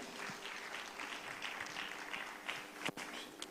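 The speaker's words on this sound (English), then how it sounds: "Please clap your hands for that." Faint, distant audience hand clapping at a national investment quiz competition final, a soft continuous patter with a couple of sharper thumps toward the end.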